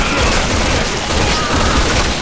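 Sustained machine gun fire in Resident Evil 6, a dense, loud, continuous burst of shots with no pause across the short stretch.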